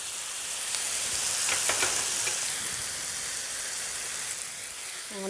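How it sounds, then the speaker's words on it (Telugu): Onions fry in a pan for a spicy chicken fry, giving a steady close sizzle with a few stirring clatters and no one speaking. "ఆనియన్స్ ఫ్రై అవుతున్నాయి"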